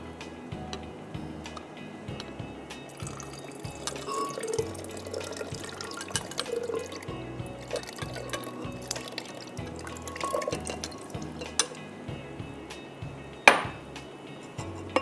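Yogurt and milk are poured out for a Rooh Afza lassi, giving a continuous wet sloshing and dribbling with scattered clinks of utensils and a sharp knock close to the end.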